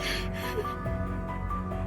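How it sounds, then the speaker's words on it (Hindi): A man loudly clears his throat, a rough, rasping, harsh vocal sound held close and continuous for about two seconds. "अपना गला साफ कर रहे हैं।"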